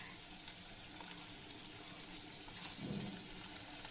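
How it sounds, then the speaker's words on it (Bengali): Hilsa fish frying in oil in a pan, a faint, steady sizzling hiss that swells slightly near the end, with no talking. "এই যে দেখো উল্টে পাল্টে ভেজে নিলাম, আর মাছটা দেখেছো খুব তাড়াতাড়ি ভাজা হয়ে যায় এই মাছটা"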